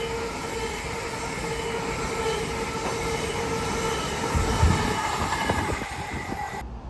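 A CrossCountry train bound for Edinburgh pulls into Durham station with a steady rolling rumble and a brake squeal, with a few wheel clunks as it slows near the platform. No one speaks.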